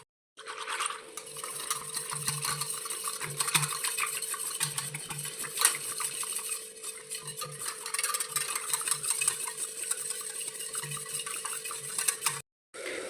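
Gram flour is stirred into buttermilk in a bowl for kadhi, giving repeated scraping and clinking strokes of a utensil against the vessel in a quick, uneven rhythm, with no voices.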